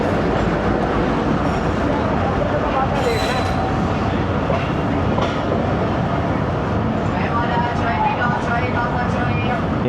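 Jaffar Express train of Pakistan Railways at Khanewal Junction, a loud, continuous rumble of rolling carriages with some brief clatters, while voices talk underneath.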